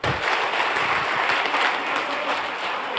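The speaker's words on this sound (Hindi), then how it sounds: "एक बार जोरदार ताली होनी चाहिए" Enthusiastic audience applause at a Meta Ozone Web 3 event in Delhi: dense, steady clapping from a large crowd continuing without a break, loud and close.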